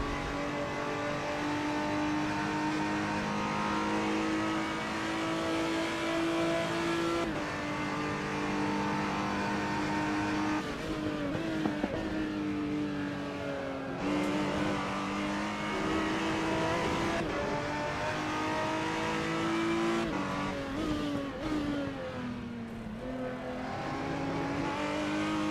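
A race car engine in the Assetto Corsa sim racing game screams loudly and continuously, rising and falling in pitch through gear changes and shifts, with no voices over it.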